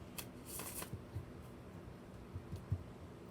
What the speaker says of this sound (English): I'm going to shuffle my clarifying deck.